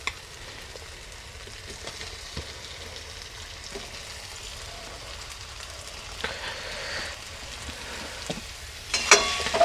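Potatoes and mushrooms frying in a masala for mushroom masala, a steady close sizzle with soft stirring scrapes throughout, growing louder and crackling near the end.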